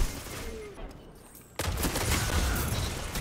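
Gunfire in a Destiny 2 player-versus-player match, where a Dragonfly legendary scout rifle is in use: a quieter stretch gives way at the midpoint to a sudden dense burst of shots and impacts that stays loud to the end.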